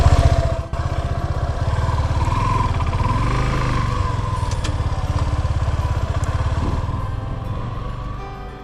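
A motorcycle engine runs steadily and close by, with a rhythmic low putter throughout and no talking.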